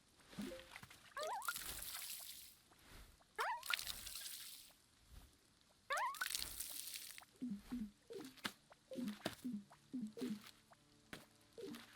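Water splashing and dripping onto a plant in the video game Wanderstop, with soft pouring splashes in several separate bursts followed by quieter dribbling and squishy taps, fairly faint overall.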